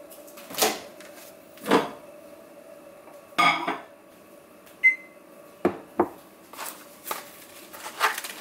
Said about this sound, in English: I'm going to microwave it for a little bit.